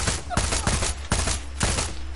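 Rapid bursts of gunfire from the video game Far Cry 6, about five loud automatic volleys in quick succession with a steady rhythm, close and dominant throughout.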